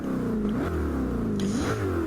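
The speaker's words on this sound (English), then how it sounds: "looks like my Corvette is all revved up to be raring to go" A Corvette engine revs in a Gran Turismo 7 race, a steady, close mechanical roar whose pitch climbs and dips in smooth sweeps without a break.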